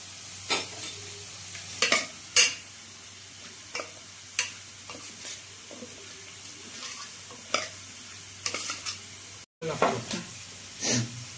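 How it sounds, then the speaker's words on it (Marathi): Onions cooking in a pan for biryani, with scattered spoon scrapes and stirring knocks over a faint low background sizzle, near and irregular. "तसाच आपला कांदाही शिजतोय साइड बाय साइड"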